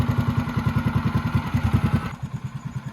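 A Predator 212 Hemi small engine fitted with a 22mm Mikuni VM22 carburetor runs at a steady, rhythmic idle, loud and close, then drops to a quieter putter near the end.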